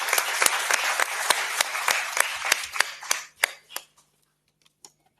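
Applause from the audience at a book launch in a hall, a dense burst of clapping that thins into a few scattered claps and dies away to silence after about four seconds.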